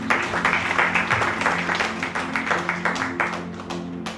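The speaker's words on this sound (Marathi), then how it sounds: "टाळ्या वाजवूया त्यांच्याजवळ" A church congregation breaks into dense, steady applause during a Sunday sermon on self-control. The clapping is fairly close and keeps going for the whole stretch, with a few sharper claps standing out.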